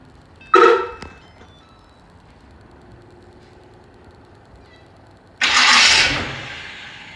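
An old carbureted car cranked by remote start that fails to fire: a brief loud burst of starter cranking, a long quiet pause, then a second harsher cranking attempt, heard close with no talk.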